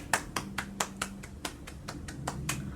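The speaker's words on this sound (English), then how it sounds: "I do like the beat of the claps" A run of sharp hand claps, about a dozen in a steady rhythm, close and fairly quiet, with a faint hum behind them.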